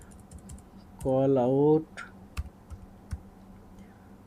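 A computer keyboard gives a few scattered, light key clicks while a Google Ads search is typed, following a brief spoken word; the taps are sparse and moderately close.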